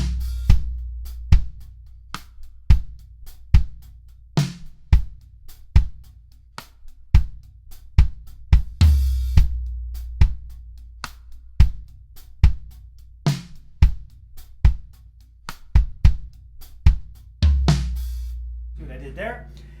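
Drum kit groove in the push-groove style with tom fills added, played as sharp, evenly spaced hits ringing with low tom resonance, loud and close with no other sounds.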